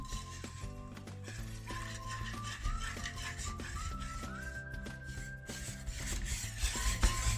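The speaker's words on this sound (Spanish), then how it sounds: "con el fuego bajo vamos a deshacer la pastilla de caldo de carne, de caldo de pollo y seguimos removiendo bien" A chicken stock cube being stirred into a creamy sauce in a pan over low heat, with continuous scraping and clinking of a utensil against the pan under steady background music.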